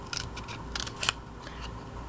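Scissors snip through a thin piece of corrugated card being cut into small craft pads, giving a few short, close, crisp cuts with quiet pauses between them.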